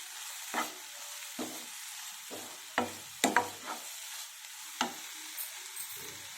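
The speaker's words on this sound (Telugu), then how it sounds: "ఇప్పుడు చిక్కుడుకాయ ముక్కలు వేసేసుకున్నాము" Broad bean pieces being stirred into a thick, softened tomato curry in a pan, with repeated scraping stirs and short bursts of wet sizzling at an uneven pace, close and clear with no talking.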